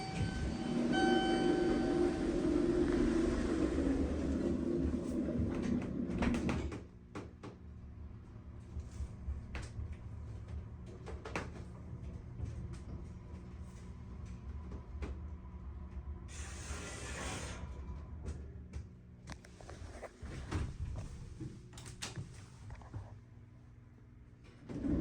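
Worn door operator on an American Elevator Company hydraulic elevator at a hotel, grinding and hissing as the doors open and close, a loud rumbling stretch followed by a steadier mechanical drone and another burst of motion near the end.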